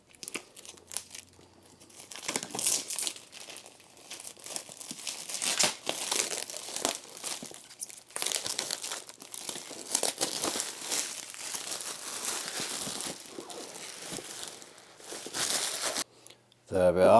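Cellophane shrink-wrap crackles and tears as it is pulled off a ZX Spectrum Next boxed unit, a continuous close, loud crinkling that runs for most of the time with brief pauses and a louder bump near the end.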